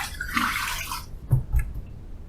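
Running water rinses a razor during a shave, a short burst of hissing flow that stops after about a second, followed by a few soft knocks and clinks.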